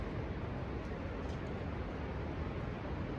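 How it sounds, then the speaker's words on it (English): Strong wind blows steadily outside a hot tent at a riverside gold-prospecting camp on New Year's Eve, a dense, continuous broadband roar with no gaps or talk. "that noise you hear is not the river, but wind. It's really windy."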